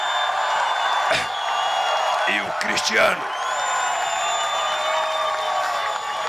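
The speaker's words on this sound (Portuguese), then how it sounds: "Gente, eu queria uma salva de palmas para os meus advogados" A crowd at a gathering applauds and cheers for the lawyers. The steady wash of clapping runs throughout, while someone speaks a few words over it near the middle.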